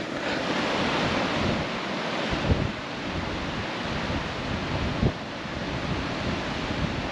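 Sea waves at the shore near Ramsey on the Isle of Man wash in a broad continuous roar, mixed with wind buffeting the microphone on a rainy day, with no voices.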